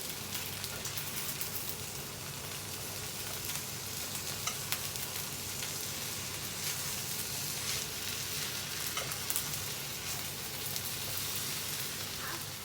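Homemade Singapore-style rice noodles stir-frying in a pan give off a steady, loud sizzle with faint scraping and stirring, continuous and close, with no talking.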